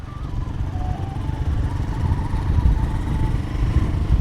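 A Royal Enfield Himalayan 450 motorcycle is being ridden, its engine giving a steady, moderately loud low drone with a faint rising whine, swelling slightly midway, with no talking over it.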